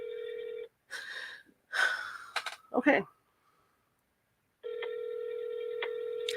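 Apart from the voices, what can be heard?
telephone call ringing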